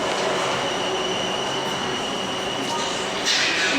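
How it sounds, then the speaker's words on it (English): A train departing for Portsmouth Harbour rumbles and rolls away on the tracks, a steady mechanical drone with faint metallic squeals, while distant voices murmur in the background. "just missed a train to Portsmouth Harbour. It's literally just gone."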